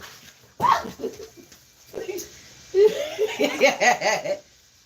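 A dog barking on a back porch while chasing a lizard, a few sharp close barks and yelps in separate bursts with stretches of quiet between.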